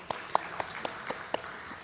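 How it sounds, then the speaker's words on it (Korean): Faint, sparse clapping from a church seminar audience, about six separate claps spaced roughly a quarter second apart, quiet and brief. "박수 한번 하겠습니다"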